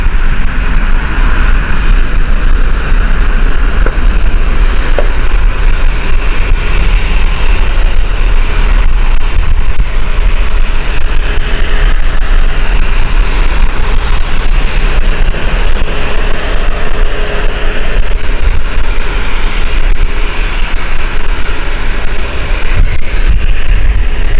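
An EasyJet airliner close behind at Gatwick Airport produces a loud, sustained jet engine roar mixed with wind noise on the microphone, continuous with no voices.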